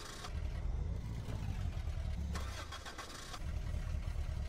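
A car engine cranks and catches in the zombie game Dead Island, then settles into a steady mid-pitched idle with a brief revving swell, heard up close and alone without talk.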